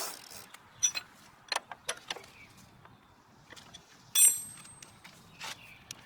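Right-side bicycle pedal being threaded clockwise onto an e-bike crank, quiet scattered metallic clicks and ratcheting taps with brief clinks, isolated against a near-silent background.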